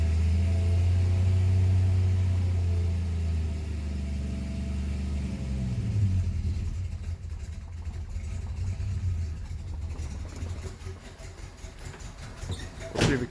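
A Dodge Slant Six engine idles steadily while warming up before a drive, a loud low rumble that dominates early on and then thins into a rougher, fluctuating running sound with a few clattery bumps near the end.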